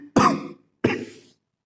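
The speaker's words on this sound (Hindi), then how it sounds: "खांसी हो रही है वैसे" Two separate dry coughs from a teacher in a classroom setting, close and fairly loud, each short and harsh with a brief pause between them, no other sound around.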